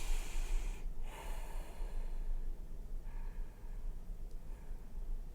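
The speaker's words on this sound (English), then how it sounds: "close your eyes, and take a couple big deep breaths." Slow, deep breaths drawn in and let out through the nose, close and soft over a steady low hiss, with a couple of audible inhales.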